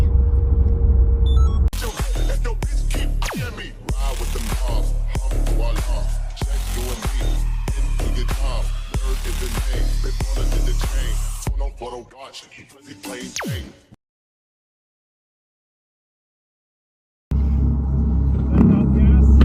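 A 640 hp Audi RS e-tron GT four-door electric car drives on a race track, heard as a loud steady rush and rumble with rapid thumps that fades into silence before resuming.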